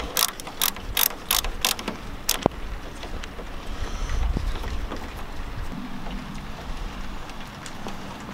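A screwdriver turns the small screws holding the headlight flap on a Ford F150, producing quick close clicking and ratcheting ticks early on, followed by softer handling noise and faint background rumble without talking.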